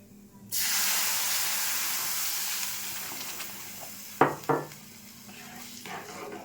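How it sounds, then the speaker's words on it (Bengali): Liquid milk hits fried semolina in a hot pan with an abrupt loud hiss that slowly fades into a softer sizzle, followed by a couple of sharp utensil scrapes and clinks, close-up and without talk. "সুজিটা একটু ভেজে নিয়েছি, এবারে একটু লিকুইড দুধটা দিয়ে দিচ্ছি"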